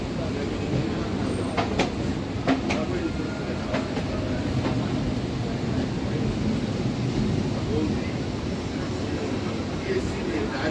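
An electric multiple unit local train rolls along the line from Sealdah toward Kalyani, passing the Narkeldanga EMU car shed. A steady, loud rumble of the running train continues throughout, with faint clicks of the rails over it.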